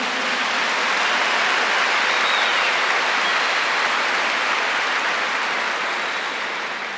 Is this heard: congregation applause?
yes